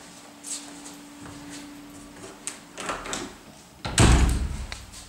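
An apartment door opened and closed during an inspection of a three-room flat, with soft handling clicks and rustles followed by a louder thud of the door shutting near the end.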